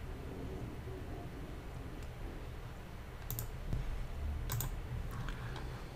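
A password is typed on a computer keyboard, with soft, quiet keystrokes and a few sharper clicks near the end over a steady low background hum.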